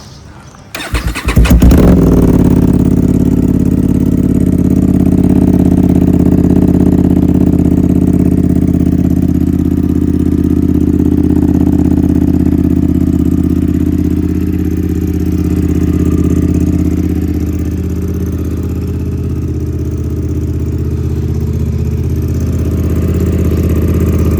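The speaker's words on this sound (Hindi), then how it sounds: "अपनी बाइक को वार्म अप करते हैं।" A motorcycle engine cranks and fires up, then settles into a loud, steady idle that rumbles continuously nearby as it warms up.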